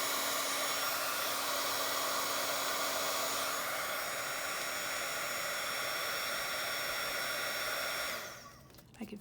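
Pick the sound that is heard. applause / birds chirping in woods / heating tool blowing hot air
heating tool blowing hot air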